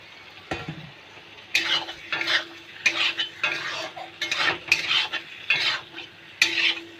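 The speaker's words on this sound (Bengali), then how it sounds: "এখন আমি বেগুন আর আলুটা ঢেলে দেব।" Brinjal and potato pieces tipped into hot fried masala for a begun aloo tel jhol with shidol shutki, then stirred with a metal spatula, giving repeated scraping strokes and clinks against the pan over a soft sizzle, close and with no talk.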